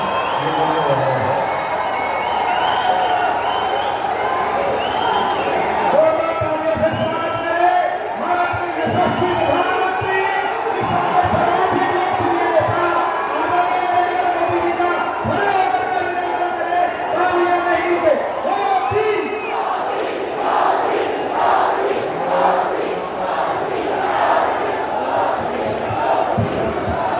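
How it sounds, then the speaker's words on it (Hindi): A large crowd at a Prime Minister's political rally cheers and shouts in a sustained roar, with bursts of clapping and chanting rising louder toward the end, mixed with amplified voices over the noise. "आप सब एक बार बहुत जोर से ताली बजा करके माननीय प्रधानमंत्री जी का अभिनंदन करें"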